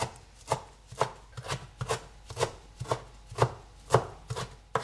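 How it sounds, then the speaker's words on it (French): A knife finely chops a bunch of parsley on a cutting board in a steady rhythm of about two crisp, close chops per second, each a sharp thud with a woody knock, continuing alone without voices. "Vous repassez plusieurs fois en fait sur votre botte de persil."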